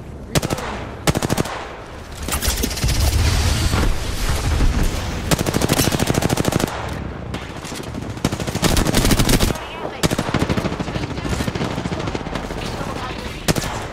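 Heavy, continuous gunfire from Apex Legends crackles in long automatic bursts with brief pauses between them, loud and close throughout.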